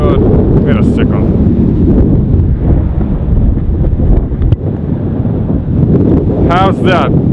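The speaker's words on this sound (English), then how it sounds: "It just like, windy like crazy." Strong outdoor wind battering a microphone, a loud constant low rumble filling the whole stretch, with a few brief voice sounds poking through.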